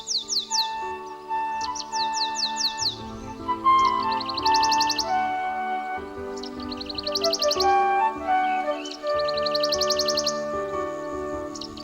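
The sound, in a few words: European swallows chirping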